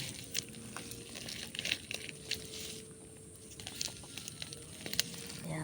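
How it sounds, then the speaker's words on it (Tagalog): Weeds are pulled by hand from soft, rain-softened soil outdoors, giving scattered close rustling, tearing and crinkling crackles in irregular bursts over a quiet background. "Kaya madaling magbunot ng damo."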